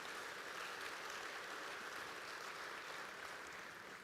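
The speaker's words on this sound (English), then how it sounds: "I'd love you to give them another round of applause" An audience at a real estate conference gives a round of applause, a dense, steady roar of many hands that holds evenly for about four seconds, fairly soft and without talk.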